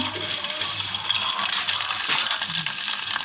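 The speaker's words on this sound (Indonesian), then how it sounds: "Nanti kita dipanaskan lagi kumbangnya di atas kompor kayak menggoreng." Beetle heated in a pan on a stove, giving a steady, dense frying sizzle with a watery hiss that runs continuously at moderate loudness, with no talk over it.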